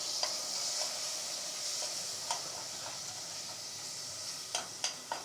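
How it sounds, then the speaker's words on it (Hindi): Tomatoes stirred into spices frying in a pan for street-style chole, a steady soft sizzle under close spoon scrapes and taps against the pan, quiet with no talk. "और इसके अंदर हम डालेंगे अब टमाटर।"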